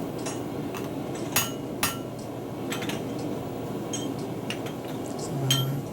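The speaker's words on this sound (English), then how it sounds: "It doesn't matter what hammer you use here, just so you hit flat and you don't mark it up." Hammer blows ring out on hot steel being forged into a cowboy hat, a handful of sharp metallic clinks at irregular intervals, two louder strikes early on, over a low background hum.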